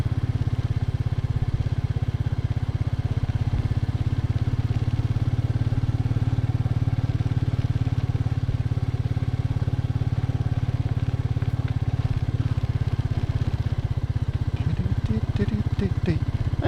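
A Royal Enfield Meteor 350 bagger motorcycle thrums steadily on an off-road trail, its low engine drone loud and continuous with some faint clatter near the end.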